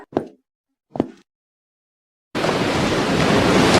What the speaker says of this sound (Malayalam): ഞാനത് വെള്ളത്തിലേക്ക് എറിഞ്ഞു.